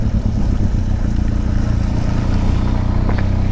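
A Benelli TRK502X adventure motorcycle rides off road over rough, bumpy ground, its engine droning steadily and loudly beneath heavy rumble and wind buffeting.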